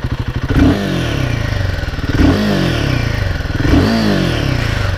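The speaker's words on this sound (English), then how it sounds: "let's start the bike" A Royal Enfield Himalayan 450 adventure motorcycle revs loudly and close up, three sharp throttle blips rising over a steady single-cylinder rumble, with no talking.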